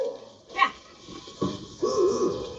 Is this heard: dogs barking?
yes